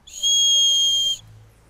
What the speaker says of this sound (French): Ici, vous avez un autre jouet que les enfants avaient, qui est un sifflet